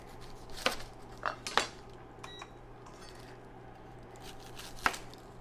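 A knife cutting a red onion on a board, a few sharp separate taps and knocks at irregular intervals over quiet kitchen background, close by and moderately soft.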